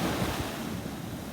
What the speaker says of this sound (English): We are where the wind, the sea, and the earth meet.